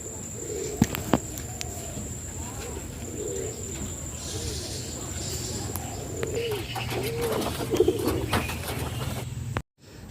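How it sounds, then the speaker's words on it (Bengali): Local desi pigeons coo steadily in a small pigeon house covered with polythene for the rainy season, several birds overlapping in soft repeated rolling calls over a constant background hum, close and moderately loud before a brief cut near the end. "এটা হচ্ছে আমার কবুতরের ছোট্ট ঘর"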